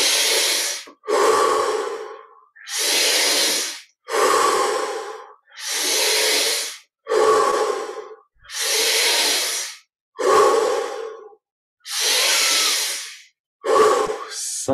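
Deep slow breaths during a guided meditation, about ten long inhales and exhales in a steady rhythm, close and loud with silent pauses between them and no talk.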